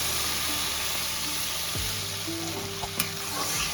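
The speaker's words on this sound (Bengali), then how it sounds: "তো আমি এবারে পরিমাণ মতন জল দিয়ে দেবো" Spice masala frying in oil in a pan keeps up a soft, continuous sizzle, broken by a sudden hiss and splash as water is poured in, with a light clink near the end.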